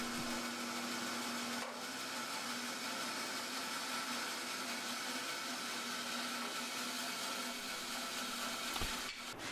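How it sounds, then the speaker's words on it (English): A bandsaw cuts away the bulk of a wooden workpiece for outdoor steps, a steady loud whining buzz running continuously with no talk, ending in a brief clunk near the close. "I used the bandsaw to take out the bulk of the material"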